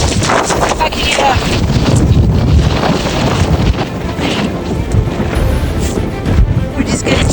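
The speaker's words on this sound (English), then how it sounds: "So it's been super windy." Loud, constant wind roaring and buffeting against the microphone on a frozen lake while ice fishing at Lake Antero, with muffled voices partly buried underneath.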